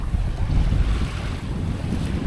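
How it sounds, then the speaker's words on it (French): Wind buffets the microphone aboard a sailboat under way on the open sea toward the Balearics, a steady low rumbling roar with water and hull noise beneath and no talk. "En espérant avoir toujours du vent, je pense que oui, puisqu'il vient de notre bâbord là."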